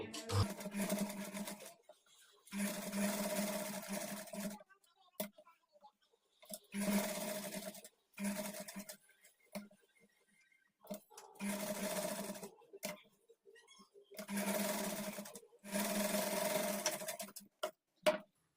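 A sewing machine stitches the lining of a kurti in five or six steady bursts of a few seconds each, separated by short pauses, close and fairly loud with no talking.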